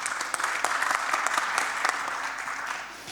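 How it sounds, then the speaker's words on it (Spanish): Audience applause welcomes a guest at a startup and internationalization talk, scattered crisp claps building into a steady patter that gradually thins out toward the end. "Bienvenido, un aplauso también."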